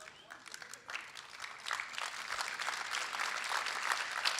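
Audience applause at a summit demo competition final, swelling from scattered claps into a fuller, sustained round from a crowd in a hall.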